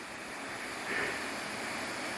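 Rain-swollen mountain stream rushing down a high slope toward a waterfall, a steady broadband wash of water that swells briefly midway, heard alone without talk.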